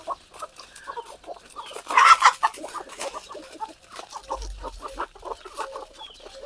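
Desi chickens on a free-range farm clucking in short, scattered bursts, several birds near and farther off, with a louder squawking flurry midway and a brief low thump later.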